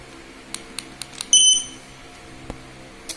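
An X-Sense XS01 connected smoke detector in test mode gives one short, shrill electronic beep, with a few soft clicks before and after it in a quiet room.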